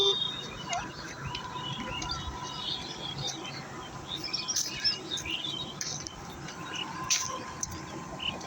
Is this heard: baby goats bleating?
no